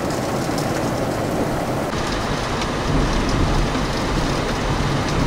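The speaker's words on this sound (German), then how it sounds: "Schöner Donner." Heavy rain pours during a night thunderstorm, a dense steady roar of downpour with a deep rumble of thunder swelling in the second half, loud and enveloping.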